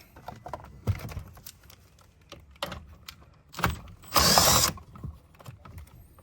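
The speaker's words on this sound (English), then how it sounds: "We remove this bolt." A tool works a bolt loose on a 2024 Toyota Land Cruiser Prado during a brake controller install. Short ratcheting clicks and scrapes repeat, then a louder burst of power-tool whirring follows, with quiet pauses between the sounds.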